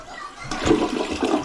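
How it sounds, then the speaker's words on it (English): A brand-new, freshly reinstalled toilet flushes with a strong rush of water that swells after a quiet start and churns steadily, close and fairly loud, with no talking. "Let's show you one more flush."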